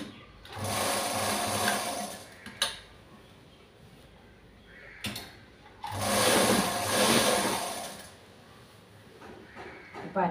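A sewing machine stitches fabric in two bursts of rapid, loud whirring, separated by a pause with clunks and handling noise.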